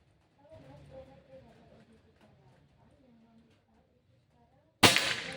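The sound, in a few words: air rifle shot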